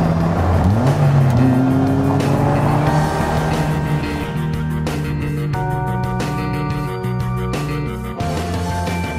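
A 2016 Polaris Slingshot three-wheeler driving on the road, its engine droning steadily and loudly with rising revs and shifting tones over about nine seconds, with tire and wind noise around it.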